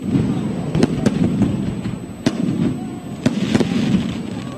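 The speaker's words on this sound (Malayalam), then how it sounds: "പൂരത്തിന് പെരുമ പകർന്ന് ഉഗ്രൻ ഒരു വെടിക്കെട്ടും." A fireworks display at the Bombay Pooram temple festival, with distant booms and sharp cracks bursting at irregular intervals over a continuous rumbling crowd ambience.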